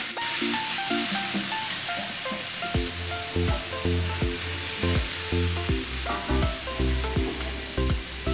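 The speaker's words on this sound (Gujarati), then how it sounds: "હવે આપણે સુરણના પીસ એડ કરી દઈશું બધા" Pieces of elephant foot yam hit a hot spiced tempering with turmeric and coriander-cumin powder, giving a continuous close sizzle and crackle of frying that runs under background music.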